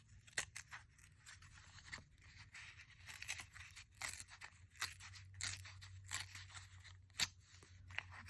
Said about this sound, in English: And I'm going to cut it down a little bit more.